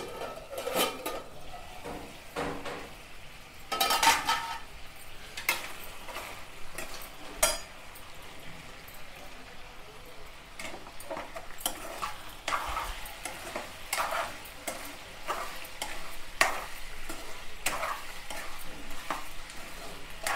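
Chicken pieces frying in a pan over a medium flame, a steady crackling sizzle with repeated stirring scrapes and occasional clinks of a utensil against the pan, close and fairly loud throughout.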